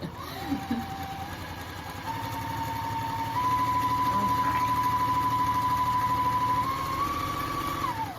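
A Juki sewing machine sewing fabric for bowl covers, its motor running as a steady, fast, close whine that ramps up and holds for several seconds, with a faint high tone wavering over it.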